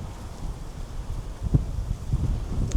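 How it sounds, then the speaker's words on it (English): Gusty wind at Haven Littlesea in Dorset buffets the microphone during a bike ride, in low, uneven rumbling bursts, rising toward the end, with no voices. "And it's as windy as you like."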